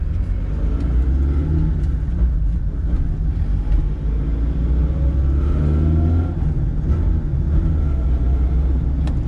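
A Fiat 147 with a four-speed gearbox and a roughly 48 hp engine pulls along a test track, its steady, loud engine drone and rumble rising in pitch as it accelerates, with no voices over it.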